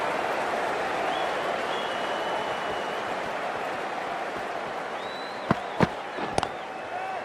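A stadium crowd at an India versus Australia T20 cricket match makes a continuous loud roar of cheering, with a few sharp horn or whistle blasts near the end.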